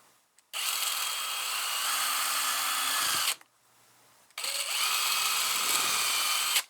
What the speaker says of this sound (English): going to drill out the holes that I marked here